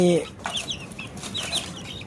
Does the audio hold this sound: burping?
no